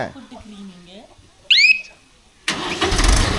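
A Mahindra Arjun Novo 605 DI tractor engine cranks and catches with a sudden loud broadband roar midway through, then keeps running steadily, after brief talk and a short squeal.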